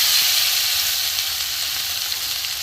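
Chopped garlic and black cumin seeds sizzle steadily in hot oil over a low flame, a close, even hiss with no pauses and no voices.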